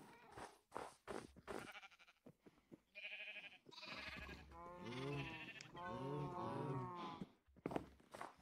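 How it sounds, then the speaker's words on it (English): Baby sheep bleating repeatedly in a farm setting, a series of loud, close, wavering cries with short pauses, alongside a few thumps like footsteps at the start. "Let's see if we can get this baby sheep into its home, into its new little home."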